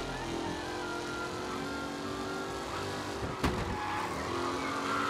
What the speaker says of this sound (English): Drift yapılmayan araçlar böyle drift yapılır.